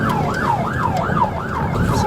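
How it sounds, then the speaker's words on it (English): A police car siren wails in a fast, repeating rising-and-falling sweep during a high-speed pursuit, loud and close over a low road rumble. "Sirens on."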